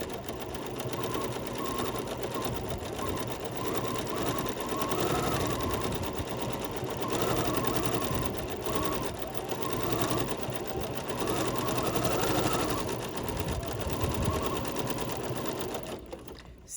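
A sewing machine stitching a crazy quilt block with blush thread on blush fabric, running as a continuous close mechanical whir for the whole stretch and stopping at the very end.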